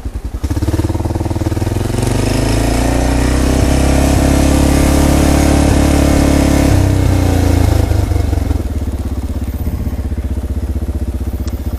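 A single-cylinder motorcycle engine runs loud and close, its rapid, thumping exhaust pulses holding steady with slight revving before it settles back to a lower idle.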